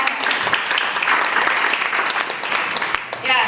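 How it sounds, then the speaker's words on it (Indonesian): Loud, dense applause from a church congregation, steady clapping throughout with a slight swell near the end. "Beri tepuk tangan untuk kita semua."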